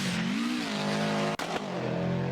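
Racing car engines in the NGP6 racing game, a high revving engine note rising and falling through gear changes, loud and continuous with a brief dip midway.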